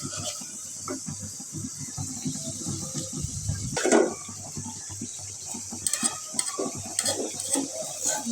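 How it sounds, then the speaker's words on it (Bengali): Spice paste of ginger, garlic, cumin, garam masala, coriander, salt, turmeric and chilli sizzles and is stirred in a pan for duck curry. A steady fry hiss runs under repeated scraping strokes, with a sharper clatter near the middle. "তো এই জায়গায় মশলাটা কষাইতে দিচ্ছি।"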